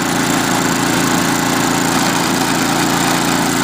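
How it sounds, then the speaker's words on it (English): An MTD snowblower engine runs steadily at idle, a loud, continuous close-up drone with an even low throb and no pauses. "And it idles as well too."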